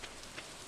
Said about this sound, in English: Oh my god, it's freaking raining.